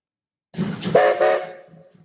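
A loud five-tone steam whistle from a German class 10 steam locomotive blows in a few short blasts, its chord-like tones ringing and then fading out with faint trailing toots.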